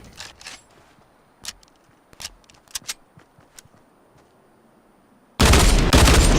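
Video game gunfire in a vending machine only challenge: scattered sharp distant shots and clicks, then a loud sustained burst of rapid fire near the end, with no voices.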